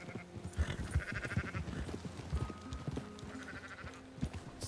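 Sheep bleat in a video game, several short calls spread across the stretch amid busy game sound effects and clip-clop-like footsteps, with no talk over them.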